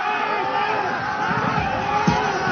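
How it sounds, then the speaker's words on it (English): A cricket crowd roars along with an LBW appeal during a Nepal cricket match, a dense, steady wall of voices with a brief louder swell near the end. "the crowd is joining Sandeep in that appeal"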